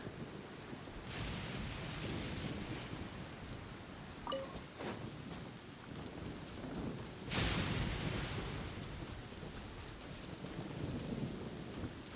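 Rumbling thunder cracks over steady rain and wind during a stormy weather event in a game, with a sharp, loud crash midway and quieter rolls before it, with no voices.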